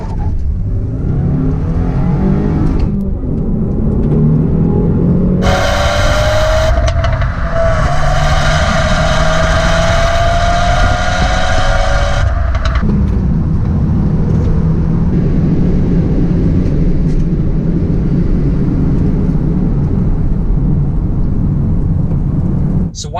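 A 2015 Subaru WRX's turbocharged engine launches from a stop: loud revving builds, then a rising surge of acceleration with turbo whoosh over several seconds, dropping back to a steady rumble.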